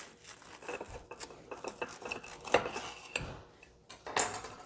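An air-fried vegan katsu burger made with a Meatless Farm patty being cut with a knife on a plate, giving close scraping, crunching and clinking strokes in an irregular rhythm, with no talking.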